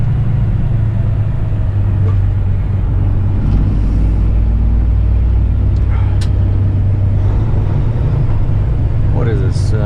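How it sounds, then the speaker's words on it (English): Freightliner Classic truck with a straight exhaust passing on a busy Nashville highway, a deep steady engine rumble carrying continuously under heavy road noise from surrounding traffic. "Freightliner Classic with a straight exhaust. Nice sound."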